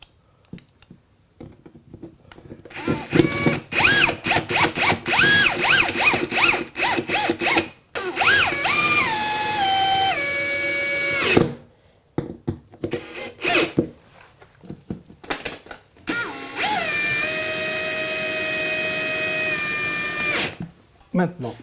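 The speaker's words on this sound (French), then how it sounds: "Et maintenant je peux visser les pattes." Power drill driving screws to fix radiator mounting brackets to a wall, several bursts of whining motor that rise and fall in pitch, separated by pauses with clicks and handling noise, close by, with someone speaking in between.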